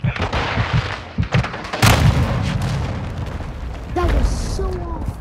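Cruise missile strikes in the Call of Duty Modern Warfare video game, heavy booming explosions and rumbling blasts layered with gunfire, a sharp loud impact near the middle and a rising whistle later.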